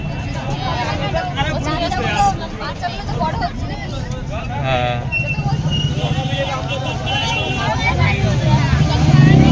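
A busy crowd murmurs and chatters all around near the Canning crematorium and Canning bridge, voices overlapping close by while vehicle and motorbike engines hum in the background.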